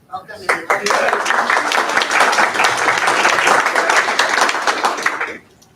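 Audience at a board of education meeting breaks into brief applause, with a few scattered claps building to a full, steady round that stops abruptly near the end.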